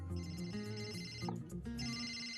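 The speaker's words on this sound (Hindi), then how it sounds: "घर से फोन है।" A phone ringtone plays in a short electronic melodic pattern, fairly quiet and alone, with no talk over it.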